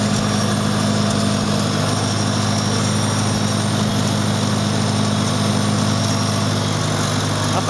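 A 1972 IH Farmall Cub tractor engine idles steadily after a cold start in snowy weather, a constant loud low rumble with a high mechanical whine layered on top, running alone with no talk.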